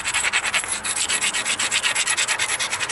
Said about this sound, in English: I'm going to give it a really good grind